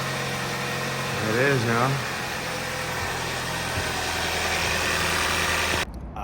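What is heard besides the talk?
2017 Hyundai Santa Fe 2.0 Turbo engine starting and idling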